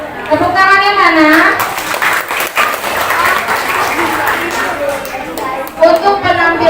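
Schoolchildren at an elementary school farewell ceremony for sixth graders break into sustained, dense clapping that fills several seconds, with a voice heard before and after the applause.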